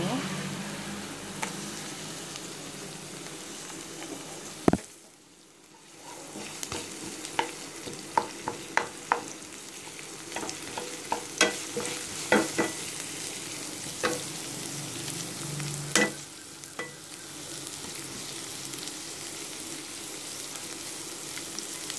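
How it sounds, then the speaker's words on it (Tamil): Onions, curry leaves and coriander sauté in a pan with fennel seeds and garlic paste for a potato and butter beans gravy, a steady low sizzle broken by scattered clicks and scrapes of stirring. "வாசம் போகிற வரைக்கும் வதங்கணும்."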